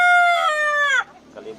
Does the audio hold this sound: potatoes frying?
no